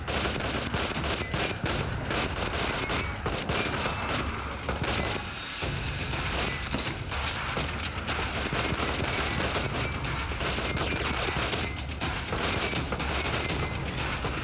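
Dense, continuous gunfire and explosions in the zombie shooter game Left to Survive, with rapid shots and booms layered loudly over one another without letup.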